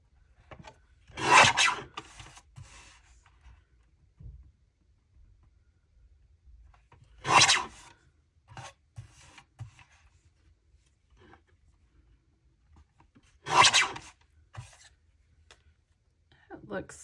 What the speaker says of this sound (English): trim it just as close as I possibly can without cutting any of the details off